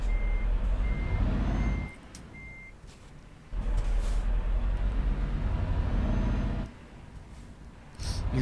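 A truck in Euro Truck Simulator sounds its reversing alarm, a steady run of evenly spaced electronic beeps over a low diesel engine rumble that fades and returns in bursts as the truck maneuvers to park.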